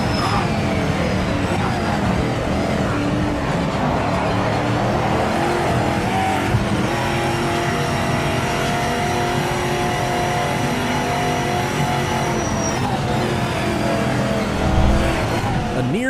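Race cars in a racing video game roar steadily around a track, engines droning and revving with faint tire squeal, one continuous loud wash of motor noise with no pauses.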